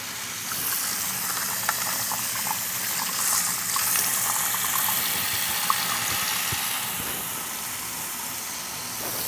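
Tap water running into a sink during jewelry cleaning with an ultrasonic cleaner, a steady broadband hiss and rush that holds evenly throughout, fairly loud and close with no one talking.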